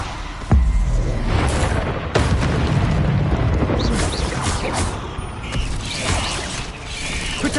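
Incendio fire spells burst in combat in Hogwarts Legacy, a loud low booming blast followed by dense rumbling crackle and clanking mechanical game effects that stay heavy and continuous, with no talking.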